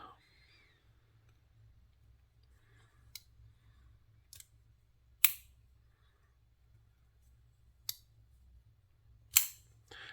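A Gerber Paraframe folding knife clicks sharply a handful of times at irregular intervals in a quiet room, each crisp snap of the blade flicking open standing alone against faint low hum.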